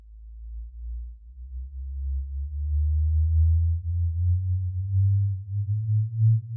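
Sine sweep test tone played in a parking garage, a single pure tone gliding steadily upward from very low pitch, moderately loud and alone.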